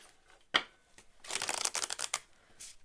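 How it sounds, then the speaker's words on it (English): A deck of tarot cards is shuffled up close: one sharp snap, then a quick riffling flurry of crisp flicking cards, then a brief final rustle. "this deck shuffles so good"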